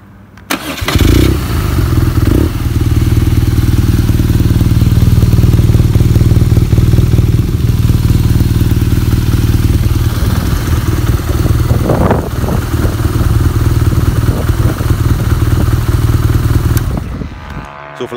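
A motorcycle engine fires up and runs at a loud, steady idle close by, with a brief throttle blip midway before it shuts off.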